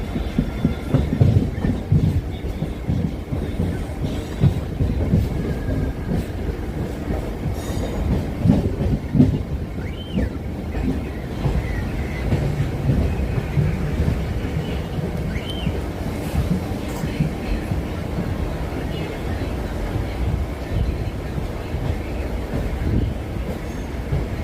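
A local train rattles along loud and continuous toward Vyasarpadi Jeeva station, its wheels clacking and carriages rumbling, with faint squeals over a steady roar.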